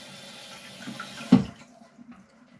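Hot water runs and splashes into a sink, a soft steady trickle with one louder gush midway before it quietens to a faint dribble.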